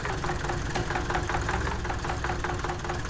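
Zetor HMT 2511 mini tractor engine in Farming Simulator 18, a steady mid-pitched idle with a knocking, pulsing rhythm running continuously at close range, with no voices over it.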